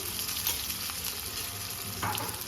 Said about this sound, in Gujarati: તો લગભગ એક મિનિટ જેવી પેસ્ટને આપણે સાંતળી લઈશું